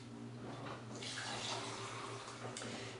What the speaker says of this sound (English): It actually took about 5 minutes of flushing that interior cavity out with lukewarm water in order to get the neck out